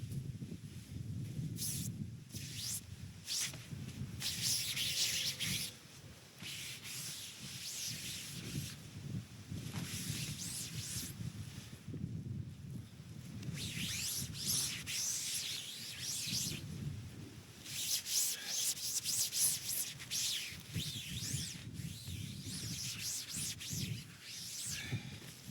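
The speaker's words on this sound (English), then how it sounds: "I go around the tent and I dry off any condensation from the inside and the outside" A sponge wipes condensation from the inside and outside of a tent on a camping trip, making close, soft rubbing and scrubbing strokes in repeated bursts separated by brief quiet pauses.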